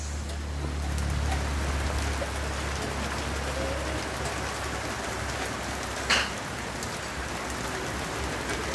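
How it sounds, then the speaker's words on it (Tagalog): Rain falls steadily in a dense, even hiss of drops, with one sharp splash or knock standing out midway. "Lumalakas ata ang ulan eh."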